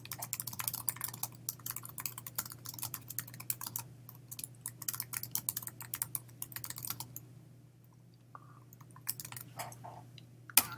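Computer keyboard being typed on, a quick close run of light key clicks that goes on for several seconds, pauses, then resumes in a few short bursts.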